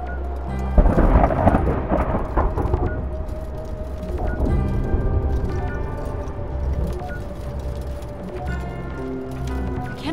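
A rolling thunderstorm in the video game Return to Grace, with a loud crack of thunder near the start giving way to long rumbling and steady rain, overlaid by a sustained tonal game score.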